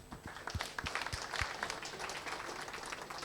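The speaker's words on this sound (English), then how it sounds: "One last round of applause." Audience applause after a thesis presentation and defense, a dense run of scattered hand claps at moderate level, steady for the whole stretch.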